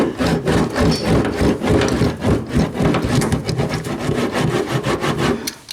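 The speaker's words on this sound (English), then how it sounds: "this guy is actually the boom mat roller" Steady rough rubbing and scraping, a roller pressed back and forth over sound deadening mat in quick repeated strokes, loud and close, in a 1977 Camaro Z28.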